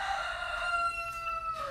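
A rooster crows in one sustained, tonal cock-a-doodle-doo, moderately close and fairly loud, heard alone with no talk over it.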